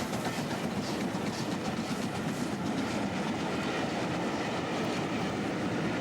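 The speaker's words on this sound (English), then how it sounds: "Duchess of Hambleton was out on Settle and Carlisle duties and is seen departing Skipton" Preserved steam locomotive Duchess of Hambleton, a Stanier Pacific, departing Skipton on Settle and Carlisle duties, heard as a steady, loud rumble of wheels and rolling coaches with rhythmic clickety-clack on the rails and no voices.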